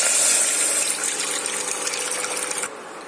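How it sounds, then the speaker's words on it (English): Water pours steadily into a cooking pan on a stove, a continuous hissing splash for nearly three seconds that cuts off abruptly, with no talking. "add water to it"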